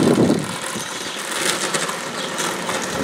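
A Hetzer tank engine runs at full throttle, a dense steady mechanical drone with rattling and clatter throughout, loud and continuous.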